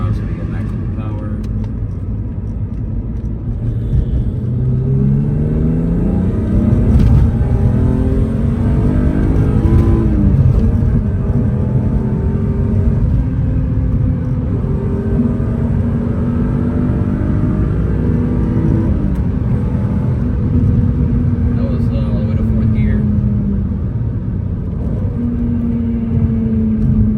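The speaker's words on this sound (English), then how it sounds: "we're going to go ahead and do a wide open throttle pull" A 1994 BMW E36 M3 Euro-spec engine roars under full throttle, its pitch climbing through several gear pulls while a voice talks over the loud, steady drone.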